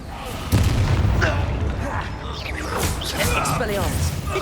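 Descendo spell cast in Hogwarts Legacy, a heavy magical boom and crash amid a dense, loud battle of repeated impacts and blasts, with shouted voices over it.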